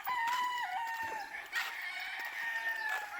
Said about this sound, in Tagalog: Oh, nangarol ng manok oh.